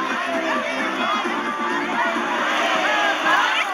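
A crowd of spectators at a 2023 Fastnacht carnival parade in Saarland and Mainz makes a steady noisy hubbub of chatter and cheering, with a nearby voice talking over it.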